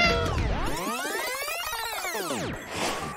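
A cat meows in one long, drawn-out, rising-and-falling wail, loud and close, followed by a shorter noisy cry.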